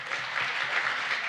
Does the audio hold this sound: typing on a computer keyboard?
no